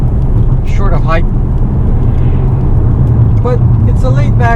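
Inside a moving Volvo V40 hatchback, a steady loud rumble of road and tyre noise fills the cabin with a low engine hum, constant throughout while a person talks over it.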